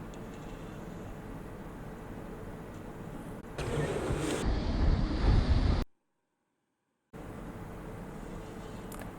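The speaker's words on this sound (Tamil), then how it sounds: "தண்ணி நல்லா கொதி வந்துருச்சு" Water comes to a rolling boil in a cooking pot while mushroom biryani is prepared, a steady broadband bubbling hiss that swells louder midway, then cuts to silence before the softer bubbling resumes.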